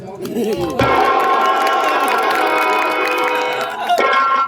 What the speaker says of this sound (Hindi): थोड़ा इस हरामी की औलाद के लिए ताली बजाओ।